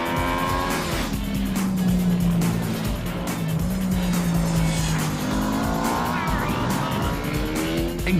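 A race car and a street motorbike battle around a circuit under heavy braking, with loud engine roar rising and falling as they shift, tire squeal, and commentary talking over the action.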